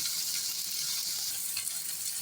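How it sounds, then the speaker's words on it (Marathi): Onion sautéing in a pan for kanda poha, a steady close sizzle and hiss of frying that runs unbroken with no talk. "कांदा परतून घेऊया"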